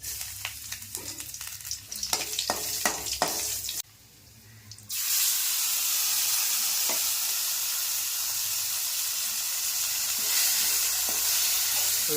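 Mustard seeds and salt sizzling in hot oil for a curry leaf chutney with garlic and chillies, a sharp steady frying hiss that starts partway through and stays loud to the end, with a few clinks before it.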